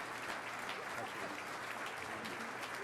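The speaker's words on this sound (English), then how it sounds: "help me welcome with a very hearty round of applause the Honorable Lucy" Audience applause fills a conference hall at a transportation summit opening session as a speaker is welcomed, a dense, even clapping throughout, moderately distant and steady without pause.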